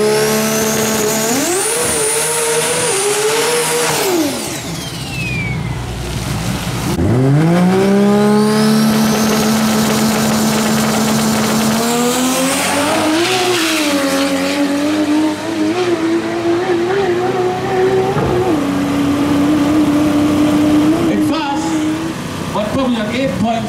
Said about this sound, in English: Lot of wheel spin on the launch.